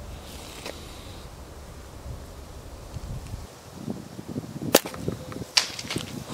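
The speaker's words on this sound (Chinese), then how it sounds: "我们使用王室雷暴重型弹弓，射击的是三瓶啤酒" A heavy hunting slingshot fired outdoors across a river at three beer bottles 40 m away, with steady wind noise, then a sharp crack near the five-second mark and another about a second later.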